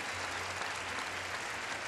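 Crowd at an NC State vs. Syracuse women's basketball game in the ACC Tournament, cheering and applauding in a steady, dense roar of broadband noise through the whole stretch, with no break.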